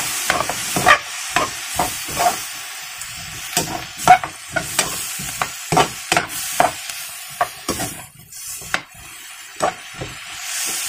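Food stirred and fried in a hot pan with Silver Swan sauce, a spatula scraping and clacking in an irregular rhythm over a steady soft sizzle, close and fairly loud.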